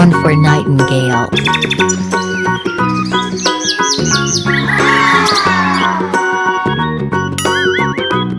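Nightingale song, a bright run of varied chirps, trills and whistled phrases, loud and close, carrying on steadily for several seconds.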